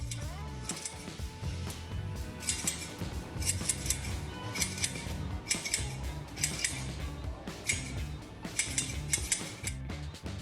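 Sheep shearing scissors used on a person give close, crisp metallic snips in quick rhythmic bursts, repeating several times over a busy mechanical background.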